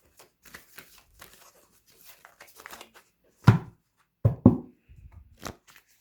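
Oracle cards being shuffled by hand for a tarot-style reading: soft rustling and crisp flicking bursts, a few louder card riffles near the end, close and quiet with no talking.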